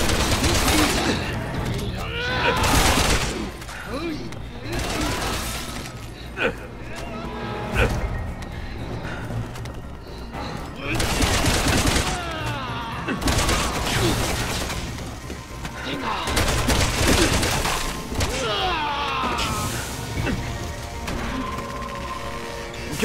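Gunfire rings out in Resident Evil 6 combat, with repeated loud bursts of shots and crashing impacts in clustered volleys, interspersed with quieter gaps and mechanical clatter.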